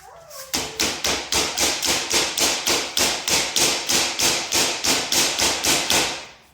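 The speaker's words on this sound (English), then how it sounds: "you should take a hammer and put it inside here" Steel boltless shelving is hammered into place in a fast, even run of about twenty sharp metallic blows, loud and close, each one ringing briefly before the next.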